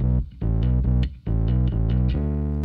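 Bass guitar split into parallel paths with distortion added to one, playing a rhythmic line of sustained notes with short gaps, loud, gritty and mid-heavy.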